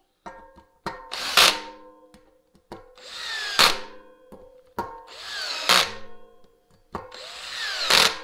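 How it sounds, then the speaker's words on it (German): A power driver tightens the brake disc screws on a mountain bike in a crosswise order, with four short whirring bursts, each ending in a sharp burst, separated by brief pauses and small clicks. "Schrauben an den Bremsscheiben natürlich im Überkreuz anziehen"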